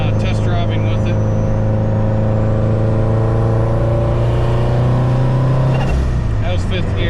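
A turbocharged FR-S at low boost, around 420 wheel horsepower, pulls hard and loud from inside the cabin, its engine note climbing steadily before a shift near the end, with a continuous roar throughout.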